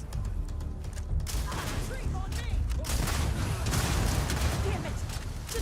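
Firefight in modded Starfield, rapid gunshots cracking in quick clusters amid a steady rumble, with voices talking over the shooting.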